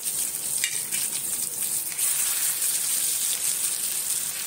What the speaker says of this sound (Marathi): मंद गॅसवर आपण फ्राय करून घेऊ, नंतर पलटून घेऊ ती मच्छी